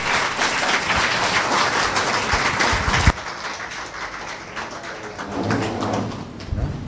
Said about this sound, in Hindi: वो जोरदार तालियों के साथ स्वागत कीजिए।